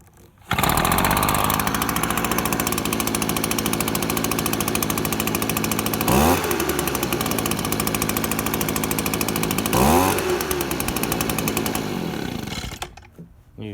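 An Echo gas leaf blower starts and runs at a loud, close, steady roar, revving briefly twice in the middle before winding down at the end; no talking.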